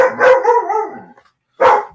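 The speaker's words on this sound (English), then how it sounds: "The dog wants to be heard." Dog barking indoors, one drawn-out loud bark or howl followed by a short sharp bark after a pause, close to the listener.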